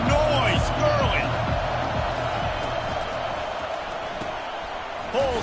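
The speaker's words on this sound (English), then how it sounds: "This crowd bringing the energy and noise early." Dense stadium crowd roar from a college football video game, a steady wash of noise with scattered whistles and cheers, loud and continuous throughout.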